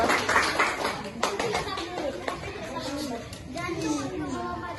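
Applause for group two in a classroom, with children's voices and busy classroom noise running through the whole stretch, plus a few sharper claps rising out of the crowd sound.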